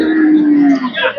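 A bull at a livestock cattle market near Aricha, bellowing in one long, loud moo that holds steady for about a second before trailing off amid faint market noise.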